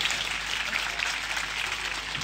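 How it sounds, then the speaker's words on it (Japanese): Audience applause at an outdoor music festival rap battle, a steady wash of clapping and crowd noise holding at an even level throughout with no voice above it. "シャミスにも大きな拍手をしてください"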